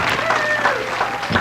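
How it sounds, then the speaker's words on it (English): A talk-show audience breaks into a brief, close burst of applause for a performance artist, with a voice speaking over the clapping. "Round of applause"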